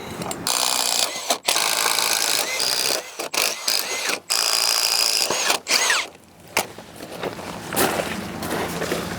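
Power drill whirring close by in several runs while drilling holes for house framing, with short stops and clattering, mechanical ratcheting between bursts.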